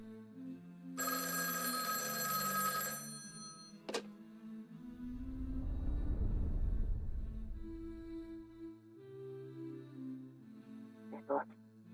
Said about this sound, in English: the phone on the wall started ringing